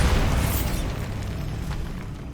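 A Bombarda spell detonates in the Hogwarts Legacy video game, a deep, heavy boom that hits hard at the start and then rolls off into a fading rumble, heard alone.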